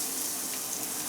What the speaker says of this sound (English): we're just going to fry that nice and gently